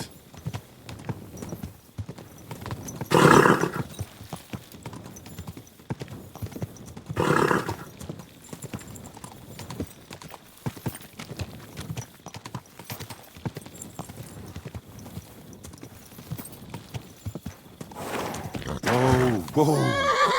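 In the video game Kingdom Come: Deliverance II, a horse whinnies loudly twice, with hooves clip-clopping at a walk in between and a final drawn-out neigh near the end.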